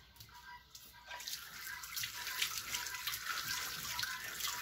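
Steady running water from a tap pouring into and through pig intestine being rinsed and cleaned by hand, a continuous close splashing flow that grows slightly louder after the first second.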